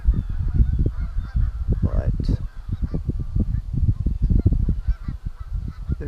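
A flock of geese honks near a pond during a goose hunt, a dense, continuous chorus of overlapping honks from many birds close by, with a brief word of talk mixed in.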